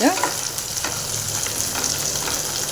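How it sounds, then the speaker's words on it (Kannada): Onions and curry leaves frying in a pan for carrot rice, a loud, steady, close sizzle with light stirring taps running throughout. "ಇನ್ನೊಂದು ಸ್ವಲ್ಪ ಫ್ರೈ ಆಗಲಿ ನೋಡ್ಬೋದು ಫ್ರೆಂಡ್ಸ್ ಚೆನ್ನಾಗಿ ಫ್ರೈ ಆಗ್ತಾ ಇದೆಯಲ್ಲ"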